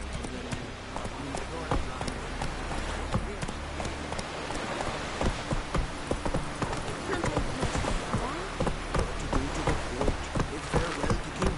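The horse Roach gallops in The Witcher 3, a loud, steady run of clip-clop hoofbeats that carries on the whole time, while a voice speaks over it now and then.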